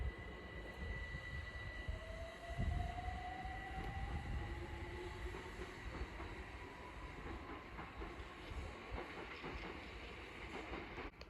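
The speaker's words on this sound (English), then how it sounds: "Now departing is the 1333 London Overground service from Hybri and Islington to Crystal Palace." A London Overground train pulls out of Sydenham station on its way to Crystal Palace, with a rising electric whine and a low rumble as it gathers speed, then faint rhythmic wheel clatter as it moves away.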